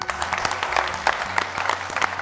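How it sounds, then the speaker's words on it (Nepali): A studio audience at a Nepali folk singing competition show claps loudly in a dense, steady burst of applause with a musical tone sustained underneath. "एकपटक जोरदार ताली"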